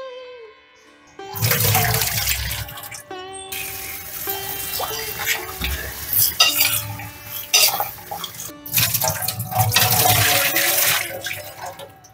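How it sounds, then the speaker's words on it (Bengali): Mushrooms being washed in a bowl of water and rubbed by hand to loosen dirt, with splashing, sloshing and swirling water in long bursts and a few clinks of a container, close by and without speech. "আমি প্রথমে কয়েকবার এটা জল দিয়ে ধুয়ে উপরের নোংরাগুলো আগে ফেলে দেব। জাস্ট একটু ঘষে প্রথমে জলটা ফেলে দেব।"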